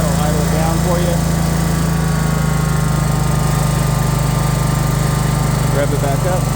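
A John Deere Z465 zero-turn riding mower with a 62-inch deck idles steadily, a constant close engine drone with a deep hum throughout, while someone speaks briefly over it at the start and end.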